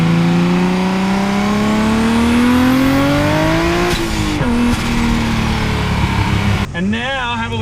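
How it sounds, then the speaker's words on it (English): A Nissan RB26 engine in a Datsun 240Z pulls hard on a race track, its loud, steady note climbing through the gears with a brief lift near the four-second mark and rougher, fluttering revs near the end. "just want to cut to a very quick clip of my RB26 240Z on the track"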